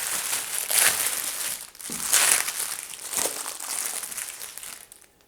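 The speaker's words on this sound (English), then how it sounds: "I'm just going to cut it open so I don't look like a dork trying to tear it open" A plastic shipping package holding a 2018 Subaru Crosstrek cup holder accessory is cut open and handled, giving close, loud bursts of crinkling and crunching plastic separated by brief pauses.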